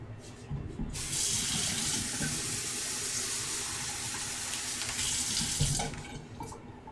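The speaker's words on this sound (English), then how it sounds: "So we got some water." A kitchen tap runs in a steady, loud hiss for several seconds, starting abruptly and cutting off near the end, with faint handling sounds and no clear talk.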